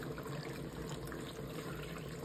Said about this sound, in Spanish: Usted le coloca agua